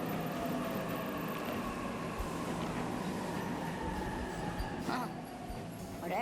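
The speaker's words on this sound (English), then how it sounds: "The train's already here." A train pulls into a station in 13 Sentinels: Aegis Rim, giving a steady, loud rumbling hum with faint squeals toward the end and no speech.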